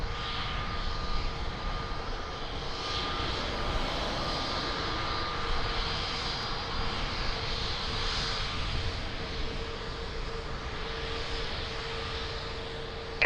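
An airliner taking off at Lisbon Airport, a loud, sustained jet engine roar rising and swelling steadily from a distance and holding throughout, with no talk.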